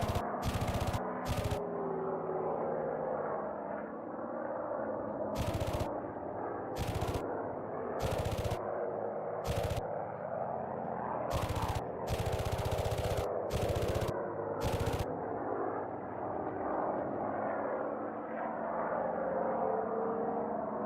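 Rapid machine-gun bursts from the rear gunners of BF-110 fighters in a flight combat game, repeated short volleys cutting over a steady droning engine roar, loud and close.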